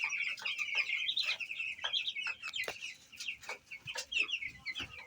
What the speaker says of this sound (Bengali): এটা হচ্ছে নতুন 12 দিন বয়স ব্রয়লার মুরগি।